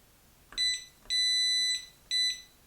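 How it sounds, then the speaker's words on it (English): A motorized wheelchair horn button gives three electronic beeps, a short one, a longer held one and another short one, shrill, near and loud against a quiet background. "That is not a horn. That is an angry beep."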